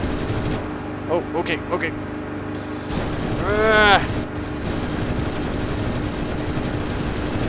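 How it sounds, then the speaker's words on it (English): Enemy aircraft gunners fire during an IL-2 Sturmovik flight-combat game: short bursts of gunfire crackle over a steady engine drone, then a rising whine sweeps past, with a man briefly reacting in speech. "Whoa, I'm being shot at. Gunners."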